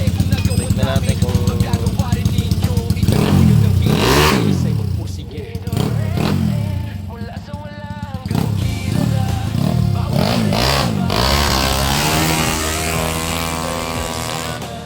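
A motorcycle engine with an edited fuel mapping revs hard against its RPM limit, a loud, buzzing drone that repeatedly surges and cuts back at the limiter. Someone speaks over the engine partway through.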